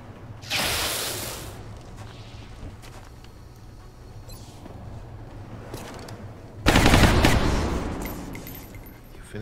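Two loud bursts of automatic gunfire from a soldier's shot in the XCOM: Enemy Within Long War mod ring out several seconds apart, with quieter mechanical clicks and rattles between them.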